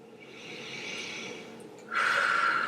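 A deep breath during a yoga session: a long, steady inhale of air, then a louder, sharper exhale that rushes out near and clear, with no talking.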